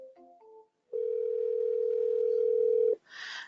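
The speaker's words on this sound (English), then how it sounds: "it is ringing. Oof, it's ringing very loudly in my ears" An outgoing call placed through a software phone dialer rings with a single loud, steady electronic tone lasting about two seconds, preceded by brief beeps and followed by a short burst of noise.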